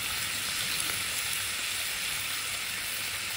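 A hamburger steak patty fries in a pan over medium heat, giving off a steady, close, unbroken hiss of sizzling fat with no talking.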